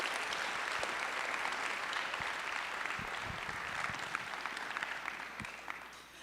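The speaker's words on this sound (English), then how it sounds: "Let's give one round of applause to all the senior members." Audience applause for senior members at a school senior awards night, sustained dense clapping from a crowd that stays steady and fairly distant, tapering slightly toward the end with no voices over it.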